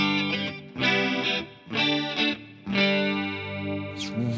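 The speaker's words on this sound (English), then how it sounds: "Relatively similar to a chorus sound" An electric guitar plays through a TC Electronic TonePrint modulation pedal set to a chorus-like effect, with sustained chords swelling and shimmering in several long phrases, loud and alone.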